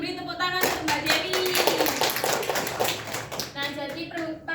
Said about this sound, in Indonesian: Beri tepuk tangan untuk Mbak Dewi.